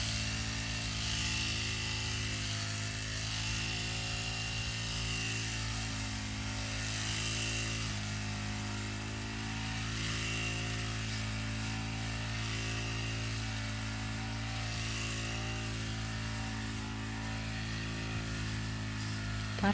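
Steady engine drone of a grass trimmer cutting grass in a rubber plantation, running continuously at an even pitch throughout, close and loud with no pauses.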